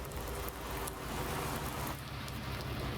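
Steady rain in Farming Simulator 19, a continuous even hiss of falling drops that fills the whole stretch at a constant level, with no voices over it.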